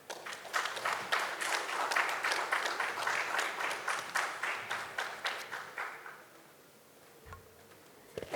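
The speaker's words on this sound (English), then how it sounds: "give her one more round of applause" At an education conference's inaugural session, an audience applauds a speaker with steady clapping that fades out after about six seconds into near quiet.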